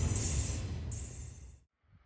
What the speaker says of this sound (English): I caught my breath enjoying the sound of Meacham Creek